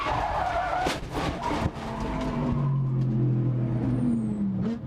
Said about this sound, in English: race leader Matteo Cressoni miscalculates and hits the 51 Ginetta.